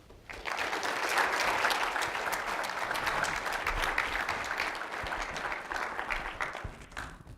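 An audience at a university lecture on cities gives sustained, even applause to welcome speaker Julie Snow, loud and steady before tapering at the end.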